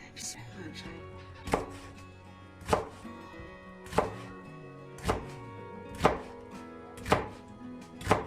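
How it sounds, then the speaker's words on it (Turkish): A knife chops peeled tomatoes steadily on a cutting board, about seven sharp, evenly spaced strikes over a soft tonal background. "Domatesimin de kabuğunu soydum, hazırladım şu şekilde doğrayacağım."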